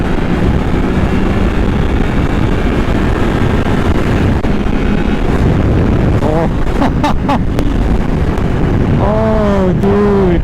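A 2022 Triumph Tiger Sport 660 triple engine accelerates hard, a loud, steady rush of engine drone and wind buffeting with rising gear pulls near the end.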